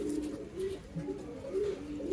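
An old-line pigeon at a bird sale in Bangalore coos repeatedly in soft, low rolling calls. The calls come close together in a steady rhythm and sound fairly near, with a faint background hum and no talking.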